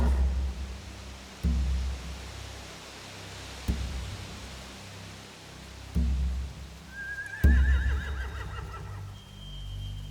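A horse neighs loudly partway through in a video game, The Walking Dead: The Final Season, a rising whinny over steady wind-like noise punctuated by several dull thumps.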